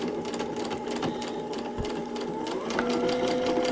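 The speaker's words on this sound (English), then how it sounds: "I'm going to stitch these two halves together." A sewing machine stitches two quilt block halves together with a rapid, even mechanical patter, close and clear, with a slight rise in speed toward the end.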